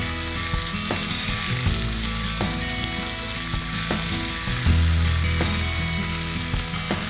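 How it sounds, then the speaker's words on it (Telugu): Gongura leaves and tomato sizzle in a pan for gongura curry with black-eyed beans, a steady close frying hiss with occasional stirring knocks and a low hum underneath, no one speaking. "టొమాటో, గోంగూర ఇవన్నీ కూడా బాగా మగ్గుతున్నాయి."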